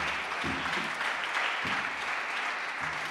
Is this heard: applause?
yes